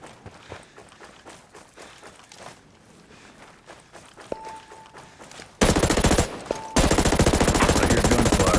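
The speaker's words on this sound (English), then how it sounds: "I hear gunfire." Gunfire in the video game Ghost Recon Breakpoint during a PvP match, with quiet footsteps and small sounds giving way to a sudden loud, sustained burst of rapid automatic fire that continues to the end.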